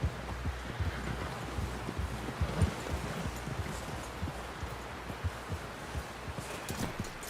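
Horse hooves clip-clopping in the video game Red Dead Redemption 2, a soft, steady patter of footfalls under faint wind-like ambience, fairly quiet throughout.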